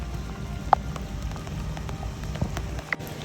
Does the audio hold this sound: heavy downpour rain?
yes